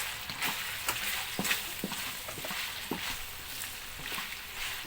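Pork frying in lard until golden brown, a close, continuous sizzle broken by frequent sharp crackles and pops from spattering fat, heard alone with no voices.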